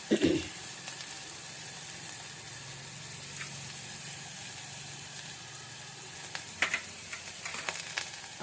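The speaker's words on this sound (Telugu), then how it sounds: "ఇది కూడా మంచిగా ఇలాగా రోస్ట్ అయ్యే వరకు కలిపెడుతూ ఉందాము." Ingredients for sweet corn soup sizzle and are stirred in a hot pan, with a brief louder burst at the start, then a steady low frying hiss and a few light scraping clinks toward the end.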